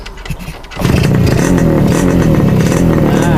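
A cold Yamaha RXS motorcycle engine, started with the choke open, sputters briefly, then catches and settles into a loud, steady idle close by.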